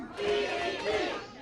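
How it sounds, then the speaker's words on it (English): A crowd at a Canadian independent PWE wrestling event chants together for a DDT, a loud, sustained collective roar with rising voices that swells twice across the moment. "The crowd is calling for it, the DDT."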